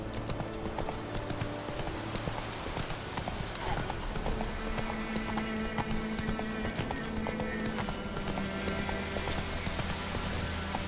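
Roach, a horse in the video game The Witcher 3, gallops with a steady, rapid clip-clop of hooves over constant game ambience, with occasional faint voice in the background.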